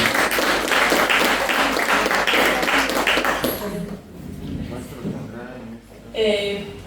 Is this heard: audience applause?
yes